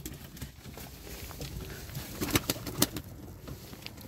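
Pigeons kept as flying play birds coo in a noisy outdoor setting, with soft throaty calls rising briefly over a steady rough background and a few sharp taps, moderately faint.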